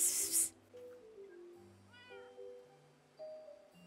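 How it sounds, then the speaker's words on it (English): A cat meows in the Minecraft video game, a short tonal meow standing out against quiet game ambience and soft musical tones. "I swear I heard a third different meow."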